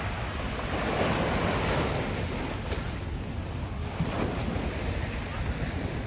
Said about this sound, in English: the river is a bit violent because that big boat had passed